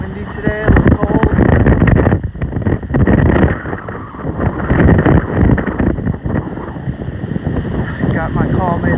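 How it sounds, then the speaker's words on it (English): Gusty wind buffets the microphone in loud, rumbling waves beside the French Broad River, with faint background noise underneath. "Windy today, a little cold."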